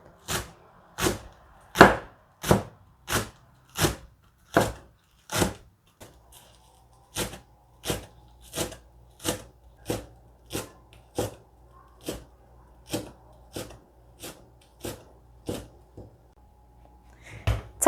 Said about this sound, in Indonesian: Nah, ini dipotong lembut.